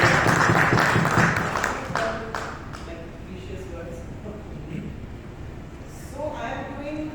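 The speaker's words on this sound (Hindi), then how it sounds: "एक बार जोरदार तालियां दीजिए." An audience at a numerology and Vastu talk bursts into loud applause that fades over a few seconds, then a voice begins speaking over the quiet room.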